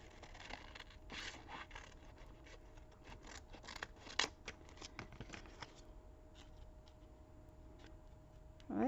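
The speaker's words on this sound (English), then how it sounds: "add my little book page to it and cut around it" Scissors snip around a paper book page for a journal flap, with several short crisp cuts and light paper handling nearby, ending in a louder rustle.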